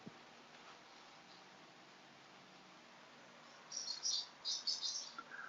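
A pet bird in a house lets out faint, distant quick chirps in a few short bursts near the end, over a quiet room hum.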